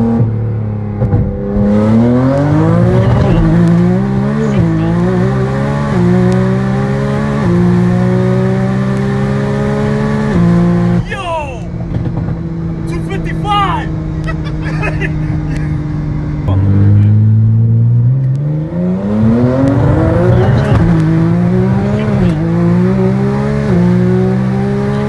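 A 2200 HP GTR street car pulls hard from 60 to 130 mph, its engine screaming upward through rapid gear changes with brief shift gaps, loud and close, then accelerating again; speech-like sounds also appear in the mix.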